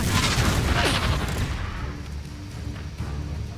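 A Confringo explosion spell from the video game Hogwarts Legacy erupts in a loud, dense boom that slowly rolls off into rumbling combat noise.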